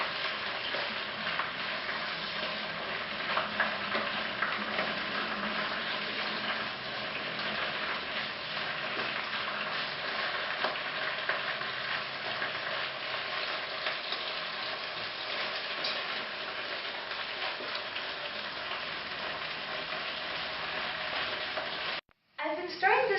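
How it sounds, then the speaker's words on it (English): Spinach leaves fry in hot oil while being stirred for a spinach and turkey meatloaf, giving a steady, close, dense sizzle with soft scraping throughout and no talking. "I'm stirring it to make sure that my oil covers all the leaves nicely."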